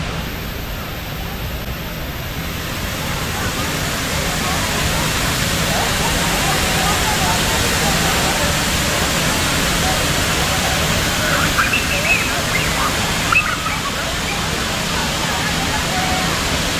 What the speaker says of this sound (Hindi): ये बर्फ नहीं है, मिस्ट गार्डन है।